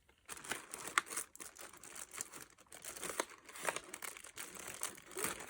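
Scissors cut into a subscription box package during an unboxing, giving close, quiet bursts of crinkling and snipping plastic in irregular pulses.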